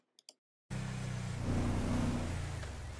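A car in GTA 5 drives with a steady, droning engine note that swells slightly and then holds, close and loud, after a couple of short clicks in near silence.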